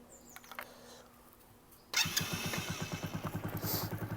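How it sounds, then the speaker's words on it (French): A Kymco KPW 50cc motorcycle engine starts with a sharp catch after a quiet lead-in, then settles into a close, rhythmic, pulsing idle that stays steady and fairly loud. "Je vais mettre en marche la moto."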